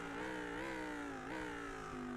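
A Lamborghini race car in a racing video game runs at high revs with a steady engine note that dips briefly during upshifts, loud and continuous with no talk.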